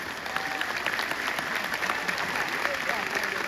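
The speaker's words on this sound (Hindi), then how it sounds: "अगर ताली मारने का दिल कर रहा है तो जोश से मारिए" A crowd applauds at a university convocation ceremony on the Rishikul Campus of Uttarakhand Ayurveda University, with dense, steady clapping that fills the whole stretch at an even level, and a voice carries faintly beneath it.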